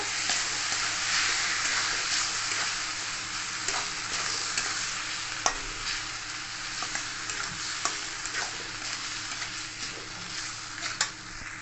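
Strained vermicelli tossed and mixed in a pan: a continuous soft sizzle under repeated scraping and clinking of a spatula against the pan, close by and with no one talking.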